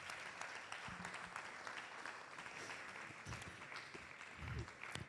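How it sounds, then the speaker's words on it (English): Audience applause welcoming the chair to the stage at the launch of an annual report, a steady, fairly quiet wash of clapping running throughout with a few louder low thumps near the end. "Please let's keep the applause going until he comes here."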